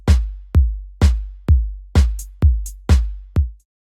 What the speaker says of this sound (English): This is just a really simple house drum loop that I created